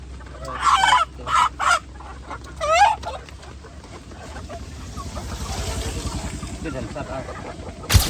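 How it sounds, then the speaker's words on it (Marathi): A few loud, sharp clucks and squawks from chickens up close, then a rooster's crow rising under a steady engine-like rumble as voices talk nearby. "कोंबडा आहे काय दोन आहेत कोंबड्या टाकू दोन"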